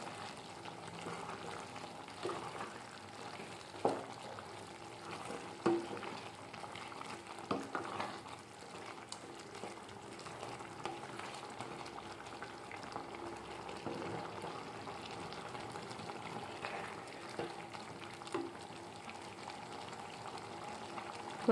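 Tomato chutney with dried red chillies and green chillies simmers and sizzles in a pan, a steady, quiet bubbling hiss with occasional soft stirring knocks.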